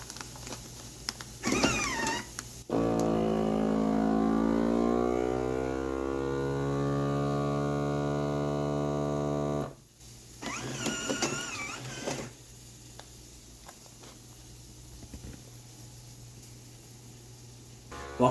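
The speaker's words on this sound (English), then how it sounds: "vacuum sealing the rest of that breakfast sausage up" A vacuum sealer working on bags of homemade breakfast sausage: a steady motorised hum with a rising whine runs for about seven seconds, then cuts off, with brief clicks and handling noise on either side.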